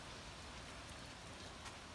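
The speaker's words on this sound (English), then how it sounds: "So we're just waiting for it to stop raining" Steady rain falls during a pause from swapping spark plugs on a 2015 Chevrolet Cruze, a continuous dense hiss of drops with no voices.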